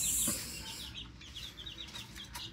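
Twelve-day-old Miner blue x McLean gamefowl chicks scuffle in a newly built pen, giving a steady run of soft high peeps and chirps with faint rustling underneath, close by and without voices.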